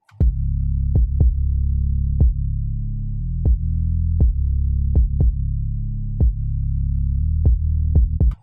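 Sidechain-compressed bass in FL Studio, a sustained low droning tone ducked sharply by a series of irregularly spaced thumping kick hits, loud and clean, with no voices.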